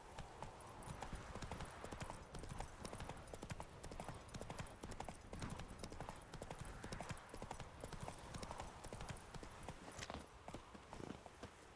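Hooves of Roach, a horse in The Witcher 3, clop in a brisk continuous trot, with a rhythmic, busy patter of steps over faint ambience and a brief whinny-like note.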